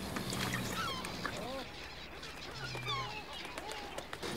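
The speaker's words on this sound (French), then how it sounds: "maintenant on va nourrir les goélands" Gulls calling repeatedly while being fed at Lac du Bourget in the French Alps, moderately distant squawks over steady outdoor wind and water noise.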